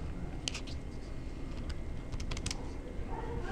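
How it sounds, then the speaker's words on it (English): A calculator's keys are pressed in short bursts of soft, close clicks and taps with pauses between them, faint over a quiet background. "So I'll type that into the calculator."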